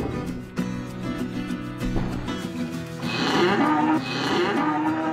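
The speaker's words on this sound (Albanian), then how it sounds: "Për hir të Rokit, lopën e sollën mbrapsht." A cow moos in a few loud, drawn-out calls, the lowing swelling and wavering near at hand with a musical score running underneath and no talk.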